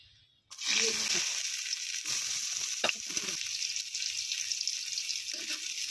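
Carrots hit a hot pan and sizzle steadily up close after a brief quiet start, with occasional utensil scrapes and clicks breaking through the continuous frying hiss.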